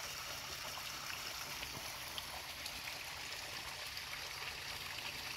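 Free-flowing, gravity-fed spring water at Boulware Springs, a historic site near Payne's Prairie, pours with a steady, soft rushing hiss, continuous and fairly distant, with no voices.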